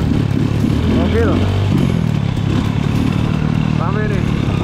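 A large group of about 25 motorcycles and cars rides together on a rough gravel trail, their engines roaring in a loud, continuous drone with revving swells, while voices speak faintly underneath.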